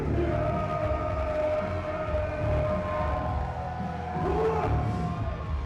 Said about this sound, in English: The sold-out crowd at the Great Hall coming unglued for the champion Clutch Jesse V